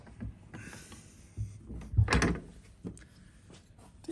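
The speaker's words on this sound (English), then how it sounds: "Put a bit of wood in the vise." A piece of wood is set into a woodworking vise, giving scattered knocks, a short sliding scrape and a firmer clunk as the jaws close, all quiet and close with no talking.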